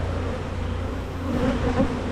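Honey bees buzz at a hive in late May, a dense, steady droning hum close by that swells slightly toward the end, with no talking.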